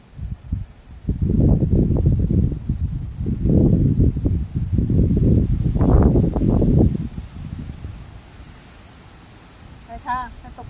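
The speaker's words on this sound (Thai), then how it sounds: "มมันแรงค่ะวันนี้ แรงมากๆเลย ได้ยินแต่เสียงลมใช่ไหมคะ" Heavy wind roars and buffets the microphone in surging gusts during salmon fishing in Finland, then eases to a quieter hiss as a faint voice or sound flickers near the end.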